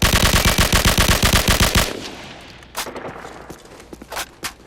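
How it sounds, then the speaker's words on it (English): Rapid fully automatic assault rifle hip fire in Call of Duty 4, a dense burst of evenly spaced loud shots for about two seconds, then a fading tail with a few scattered clicks and thumps. "There you go with the blind fire hip, as fast as I can."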